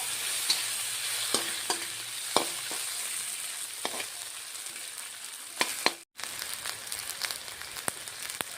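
Whole cumin and onion frying in a pan for a Bengali fish-head bottle gourd curry, a steady close sizzle with sharp crackles and occasional spatula scrapes against the pan, no talk.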